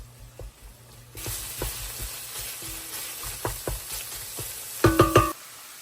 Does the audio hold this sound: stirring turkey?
yes